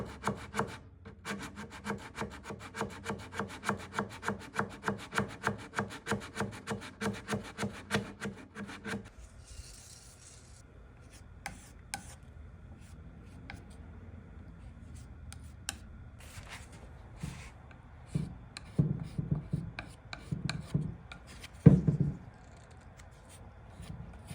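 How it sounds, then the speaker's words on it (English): Hand sanding a wooden dresser with sandpaper wrapped around a Bondo spreader: fast, rhythmic back-and-forth scratchy rubbing up close, then quieter sporadic scuffs and handling noises. "The sandpaper wrapped around the Bondo spreader actually works really good for these small little areas."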